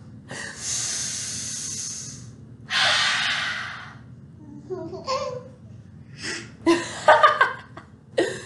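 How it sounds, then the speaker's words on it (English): Several short, breathy nasal sniffs and snorts in bursts, close by, with a few soft gasps and light vocal noises between them. "Are you sniffing the pizza?"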